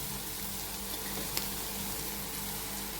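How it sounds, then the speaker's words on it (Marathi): Spices sautéing in a pan for kavlyachi bhaji, a Mahalakshmi festival vegetable dish with turmeric added, giving a steady soft sizzle and fry hiss throughout with one faint clink. "दोन ते तीन मिनिट हे आपण परतून घेतले"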